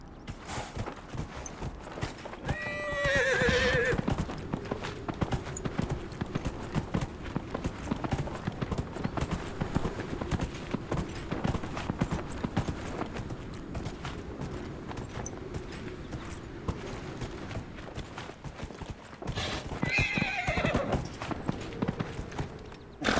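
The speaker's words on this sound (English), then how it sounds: "I think I might have lost my horse up there." A horse in Dragon Age: Inquisition clip-clops along in a steady walking rhythm, with two short neighs breaking through near the start and again near the end.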